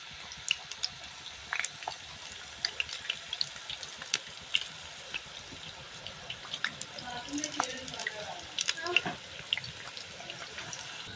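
Potatoes marinated in salt and turmeric fry in hot sunflower oil in a pan, giving a steady crackle dotted with sharp pops and spits, fairly close and alone without talk.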